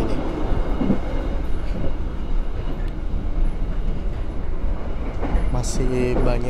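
Interior of a moving long-distance train in a business class carriage, a steady loud rumble of wheels and carriage noise throughout, with people speaking briefly near the end.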